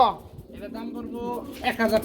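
Pigeons at a pigeon market give soft, rolling coos, close and fairly quiet, mixed in with people talking nearby.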